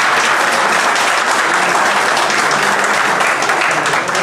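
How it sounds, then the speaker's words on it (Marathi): A crowd at a police retirement ceremony gives loud, sustained applause, many hands clapping together in a dense, even roar for the whole stretch. "त्यांच्यासाठी एकदा जोरदार टाळ्या होऊ द्या."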